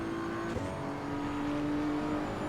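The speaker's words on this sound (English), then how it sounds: "I love the overrun on the exhaust" Race car exhaust overrun in the racing game Assetto Corsa Evo, a steady engine drone with a faint pop near the start, followed by a sustained whine as the car coasts.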